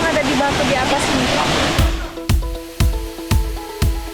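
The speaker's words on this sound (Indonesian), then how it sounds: "Ini adalah air terjun Pelisan." Pelisan waterfall in Bali, with water pouring out of springs in the rock above, gives a dense, loud rush for about two seconds. Then it drops back as steady rhythmic thumping beats with tones take over.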